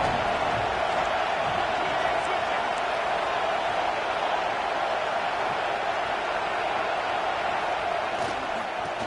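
A big football stadium crowd at Tennessee vs Alabama roars in a steady, dense wall of noise, loud and continuous for the whole stretch, with no distinct bursts or pauses.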